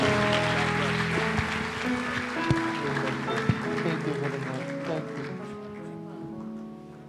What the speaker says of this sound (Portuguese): Vamos dar um aplauso ao Senhor essa noite.